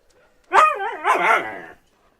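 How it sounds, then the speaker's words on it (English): A dog in the video game INSIDE gives one loud, close, wavering bark-howl that breaks into a second snarling burst. No voices are heard. "No, there's a dog."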